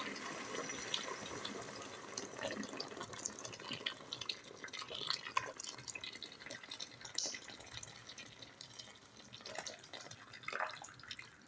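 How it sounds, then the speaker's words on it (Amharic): Freshly boiled hot water is poured into a cooking pot of chicken and rice, a faint continuous trickling and splashing with a few soft drips and no speech. "አሁን የምጨምረው እኔ ትኩስ ውሃ አፍልቻለሁ እና ውሃ ነው የማደርግበት"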